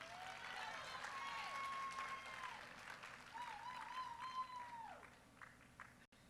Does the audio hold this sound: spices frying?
no